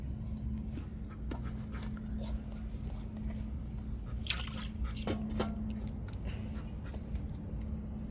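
Tuna fish curry boils on a stove, making thick, wet bubbling pops and drips that burst irregularly over a low steady hum, close and moderately loud.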